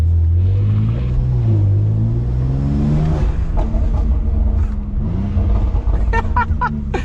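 A 640hp BMW X3M Competition in manual mode, its engine droning loud and close from inside the cabin, revs climbing and dropping in long sweeps as it pulls without upshifting, with a few short sharp noises near the end.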